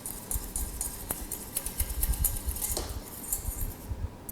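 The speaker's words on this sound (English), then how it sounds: "I'm going to mix this together nicely so that the butter is nicely dissolved" A whisk or spoon clinks and scrapes against a bowl while butter, about two tablespoons, is mixed into milk until dissolved, giving irregular close-up metallic taps and stirring scrapes.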